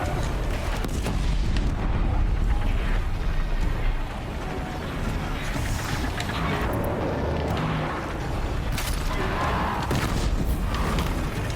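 Bomb explosions in the Horizon Zero Dawn video game: continuous loud rumbling booms and blasts overlapping one another in a dense, roaring wash without pause.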